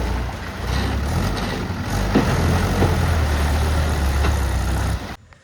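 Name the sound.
Mahindra and Sonalika tractor engines running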